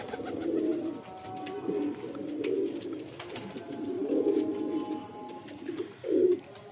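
Pigeons coo close by in a loopback of repeated low, throaty phrases, several soft rolling calls in a row with short pauses between, loud and clear with no talking.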